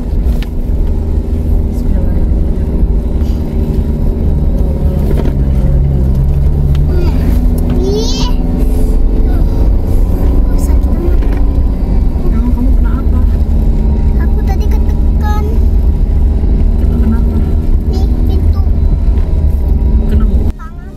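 A front-wheel-drive car strains up a steep uphill road near Puncak, Bogor, its engine a steady loud drone heard from inside the car throughout, with people talking over it.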